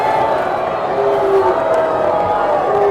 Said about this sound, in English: You can hear the Lincoln crowd not happy